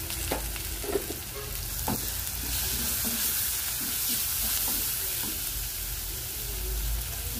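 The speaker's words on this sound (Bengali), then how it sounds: "পেঁয়াজটা হালকা ভেজে নিয়েছি। এখন দিয়ে দিচ্ছি রসুন, লবণ, হলুদ," Sliced onion sizzles steadily in a pan as garlic, salt and turmeric are added, with close scraping and stirring knocks over the continuous frying hiss.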